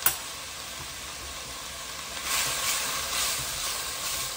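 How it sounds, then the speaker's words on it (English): Four cloves of finely diced garlic sautéing in a pan for lentil soup, a faint even sizzle that swells a little in the second half, with a small click at the start and no talking. "So now I'm going to add my garlic. I've got 4 cloves of garlic that I have finely diced."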